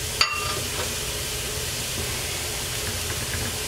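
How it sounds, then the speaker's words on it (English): Spanish rice frying in a pan with cumin, coriander and garlic being stirred in, a steady close sizzle and hiss with a brief scrape near the start. "I'm going to stir that in."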